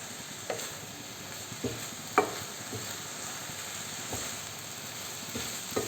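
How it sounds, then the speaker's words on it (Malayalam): Grated carrot thoran is stirred in a pan, with a quiet, steady sizzle broken by several soft scraping clicks of a spoon at irregular intervals. "നമുക്കിതൊന്ന് തുറന്ന് ഇളക്കി കൊടുക്കാം"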